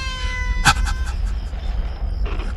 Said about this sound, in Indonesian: suara kucing yang mengeong dan terdengar dari arah dalam kamarku